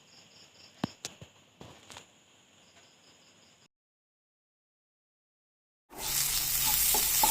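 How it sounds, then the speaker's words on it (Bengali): Jackfruit seed filling sautéed in a pan with mustard paste, green chili, salt, turmeric and sugar: a few sharp clatters of a spatula over faint sizzle and a high steady whine, then silence, then a loud dense sizzle. "এবার কিছুক্ষণ কষিয়ে নিচ্ছি।"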